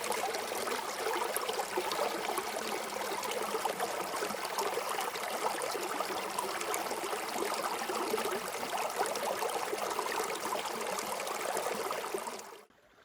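River water flows steadily over rocks and bedrock crevices near Sunny Corner State Forest, NSW, a continuous close rushing trickle that holds for about twelve seconds before cutting off abruptly.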